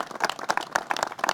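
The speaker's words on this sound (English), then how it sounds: "Let's give him a round of applause." A brief burst of crowd applause for a town supervisor at a public emergency declaration event: dense, quick hand claps at moderate volume, with no speech over them.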